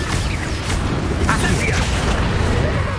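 A Confringo fire spell explodes in the Hogwarts Legacy video game, a loud, dense, sustained booming roar filling the whole stretch with crackling bursts layered over it.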